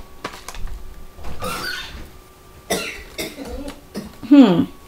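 A person coughs several times, ending in a harsh, rough throat-clearing cough, amid shuffling and a bit of muffled talk nearby.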